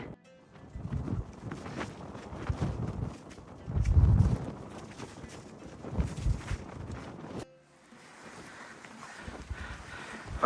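Strong wind buffets the microphone at a mountain trig point, loud gusty roaring that swells and eases throughout with no voice heard.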